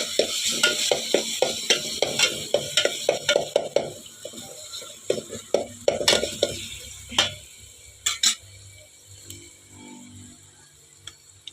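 Garlic, chili, ginger and cumin paste frying in a hot pan, stirred with a spoon that clicks and scrapes in quick bursts over a steady sizzle, the stirring thinning out near the end.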